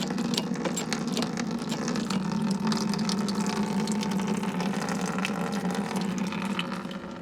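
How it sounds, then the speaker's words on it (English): Fresh apple juice pours steadily from a traditional cider press, a continuous close liquid gushing and trickling that runs unbroken for the whole stretch without any talk. "Lovely fresh apple juice. Absolutely flowing out of here."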